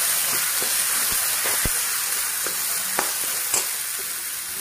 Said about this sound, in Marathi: आपला मसाला पण छान असं तळलेला आहे आणि साईडने तेल सुटले